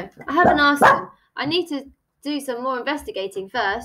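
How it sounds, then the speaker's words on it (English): A pet dog barks a few times indoors while a person reads aloud, the barks mixed in with the ongoing speech. "Sorry, that was just my dog."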